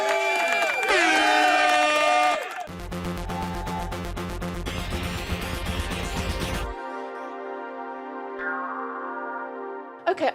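Cheer sound effects fired from a button: a bright electronic jingle, then a dense burst of crowd cheering and whooping, followed by a softer tonal flourish and a few sharp clicks at the end.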